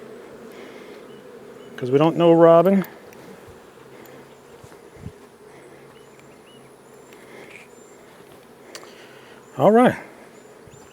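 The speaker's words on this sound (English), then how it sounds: "Get the bees out from underneath there" Bees buzz in a steady low drone around a nuc hive as the cover goes back on, close and continuous, with a person briefly speaking over it twice.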